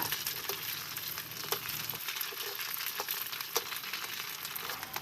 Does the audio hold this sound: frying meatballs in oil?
yes